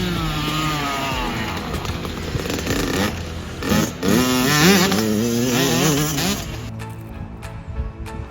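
Dirt bike engine buzzing and revving as it is ridden, rising and falling in pitch through gear changes, fairly close and then easing off toward the end.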